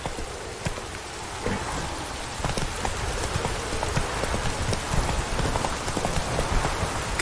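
Horse hooves clip-clop steadily through heavy rain in The Witcher 3, the hoofbeats partly buried under a constant dense patter of rainfall.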